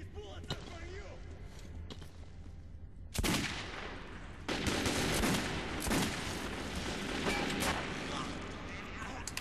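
Repeated gunfire in the Metro 2033 video game, sharp bursts and broadband cracks rapidly following one another from about three seconds on, loud and close over a low rumbling backdrop with occasional clicks beforehand.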